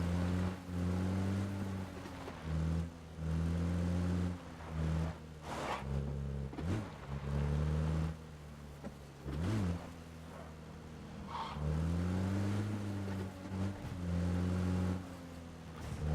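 A car driven in PUBG on Xbox One, its engine droning and revving up and down through repeated shifts, with occasional bumps and skids, fairly quiet and with no talking over it.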